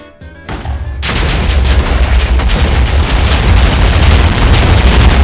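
A huge chain of explosions in the video game Minecraft sets off a sudden loud boom, followed by a continuous rumbling roar of blasts that stays heavy and sustained for several seconds.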